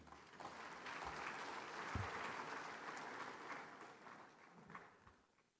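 Audience applause in a large conference hall at the 30th Afreximbank Annual Meetings in Accra, a faint, distant wash of clapping that swells and then fades out toward the end.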